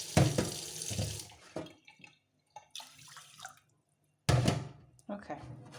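Water is poured into a pot of rice on a stove, two bursts of splashing pouring, close and fairly loud, separated by quieter dribbling and handling sounds.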